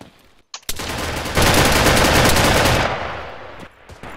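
An unsilenced machine pistol in ArmA 3 fires a loud, close, sustained burst of rapid shots lasting a couple of seconds, after a single opening shot, then trails off into echoes.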